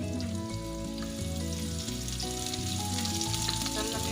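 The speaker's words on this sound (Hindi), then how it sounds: "नरम में फ्राई करेंगे, इसको ब्राउन नहीं करेंगे, लाइट से शैलो फ्राई करेंगे इसको" Sliced onions with white cumin shallow frying in a pan, a loud steady sizzle and crackle heard up close with no talking.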